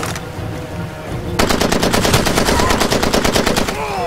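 Rapid automatic gunfire in Far Cry 2, a loud sustained burst of fast regular shots that starts abruptly after a quieter stretch and keeps hammering to the end.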